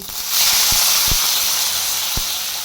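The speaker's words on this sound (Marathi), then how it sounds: "तेल गरम झालंय त्यात टाकूया मोहरी आणि जिरे त्यानंतर टाकते कांदा टोमॅटो" Onion and tomato hitting hot oil with mustard seeds and cumin give a steady broad hiss that swells up after a quiet start, with a few sharp low pops and crackles scattered through it.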